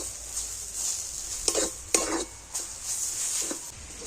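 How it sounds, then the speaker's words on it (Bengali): A spoon scrapes and stirs mashed pea paste in a pan as it dries, with a few distinct clinks against the metal over a quiet, faint sizzle; no talking. "এইভাবে একটু নাড়াচাড়া করে তো মটরশুঁটির পেস্টটাকে আমি অনেকটাই শুকনো করে নিয়েছি।"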